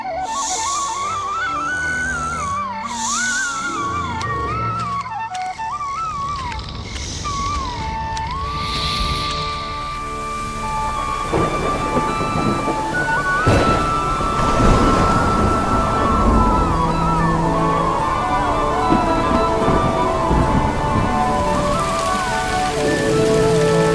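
Steady rain on a surface during a thunderstorm at a stormy river, a continuous loud wash heard throughout beneath a melodic instrumental music score.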